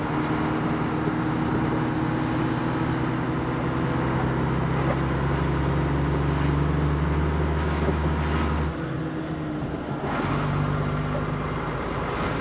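ERF EC truck with worn synchros being driven, a steady low engine drone from the cab with shifting pitch as it changes load, a brief dip near the end before resuming.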